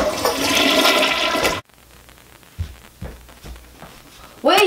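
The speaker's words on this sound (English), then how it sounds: "Dump ice down the toilet." After ice is dumped into it, a toilet flushes with a loud rush of water for about a second and a half, then falls to quiet gurgles and small knocks. A brief voice comes in at the end.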